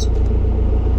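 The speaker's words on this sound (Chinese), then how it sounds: "启动车，把空调打开先" A car engine runs close by with a steady low, throbbing idle rumble, alone without voices.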